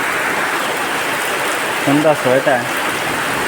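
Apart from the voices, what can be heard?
rain falling after a hot day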